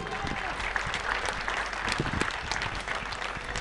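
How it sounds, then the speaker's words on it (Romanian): Tennis crowd at the Nastase-Tiriac Trophy 2011 applauding player Adrian Ungur as he warms up, sustained clapping with sharp individual claps popping out, a murmur of voices underneath. "Să-l aplaudăm și să-l încurajăm pe Adrian"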